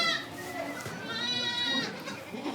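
Goats on a Corsican farm bleat close by in loud, wavering cries that overlap, with a faint background murmur.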